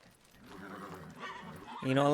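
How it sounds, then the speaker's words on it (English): Horse in the video game Witcher 3, soft hoof clatter under game audio building to a short neigh at the end, with someone talking in the clip. "Horse, go."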